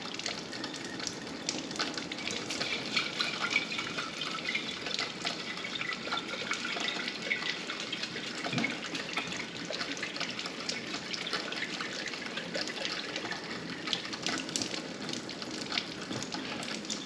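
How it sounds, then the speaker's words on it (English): Alfalfa and broccoli sprouts rinsed under running tap water at a sink, a steady close hiss of flowing water with faint splashes and drips throughout, no voices. "So we're just going to rinse them really good."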